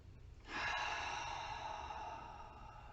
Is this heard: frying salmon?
no